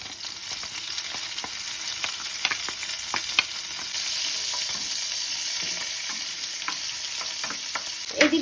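Chopped onions hiss and sizzle in hot oil with cumin seeds and bay leaf, a steady close frying crackle punctuated by stirring scrapes and clinks.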